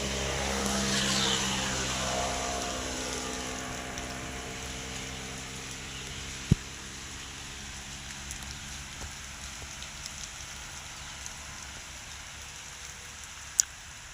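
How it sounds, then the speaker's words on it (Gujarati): Heavy rain falling over groundnut fields in Vijapur, a steady distant wash of rainfall with a couple of sharp isolated knocks. "વરસાદ ચાલુ થઈ ગયો છે ધમધાર"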